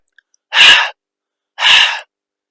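A voice imitates heavy panting breath to demonstrate the Arabic letter ha in a Quran recitation lesson, two breathy exhalations, clear and close, with silence in between.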